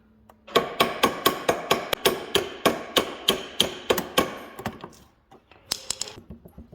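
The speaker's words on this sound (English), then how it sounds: "I just give this a little tap with a little hammer, brass hammer if you got it" A small brass hammer taps metal splines in a quick, regular series of sharp clinks, about a dozen strikes, then a few lighter, scattered taps.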